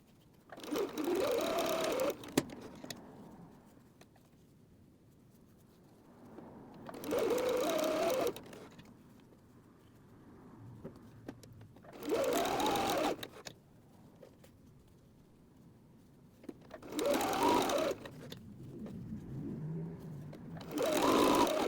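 Home sewing machine stitching quilt pieces with a 1/4 inch seam allowance for a quilted cat pillow, five bursts of steady motor whir about two seconds each, separated by quiet pauses, close and clear.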